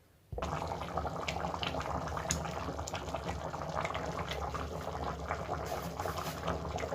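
Egusi soup simmering in a pot, seasoned with salt and Maggi, gives a steady, dense bubbling and gurgling that starts abruptly and continues evenly at close range throughout.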